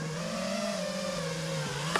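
Motors of an FPV quadcopter drone on a 1500 mAh pack whir at a steady pitch that sags and dips near the end, a close, continuous electric drone sound with no talking.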